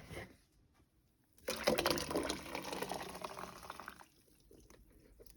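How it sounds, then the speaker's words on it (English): Ground masala poured from a mixie jar into tamarind paste for puli kulumbu, a wet, sloshing pour lasting a few seconds after a quiet start, then tapering off. "now the entire masala has been ground and I'm going to pour it into the tamarind paste"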